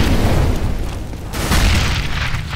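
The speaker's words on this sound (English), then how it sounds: "Grenade out!" A grenade blast in Counter-Strike: Global Offensive on the Nuke map, a loud, broad rumbling boom that swells again partway through and rolls on for a couple of seconds with no talk over it.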